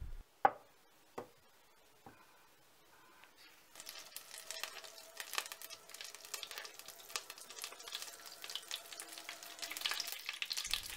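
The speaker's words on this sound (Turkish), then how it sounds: "Ocağımızı en yüksek dereceye açıyoruz ve yağımızı güzelce kızdırıyoruz." After a few clicks and knocks, oil starts sizzling in a pan on a stove turned to its highest setting, a steady crackling hiss that builds and continues to the end.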